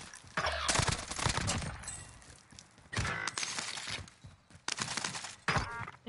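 Video game gunfire in Call of Duty Warzone Rebirth, loud bursts of rapid automatic shots in several separate strings with short quiet gaps, sharp and close.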